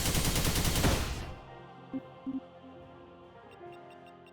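A machine gun attack in the fantasy tactics video game Dark Deity 2: a loud, dense burst of rapid gunfire for about a second, then a fading tail under soft game tones and chimes.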